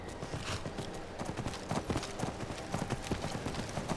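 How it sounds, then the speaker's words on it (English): Spectral horse hooves in Skyrim clop steadily as the mount arrives, a quick rhythmic run of hoofbeats at moderate distance over a soft background bed. "strolling in on a spectral horse"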